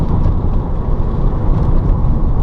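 A DIY electric-converted VW Beetle cruising along, a steady low rumble of road and tyre noise heard from inside the car with no engine note and no talk.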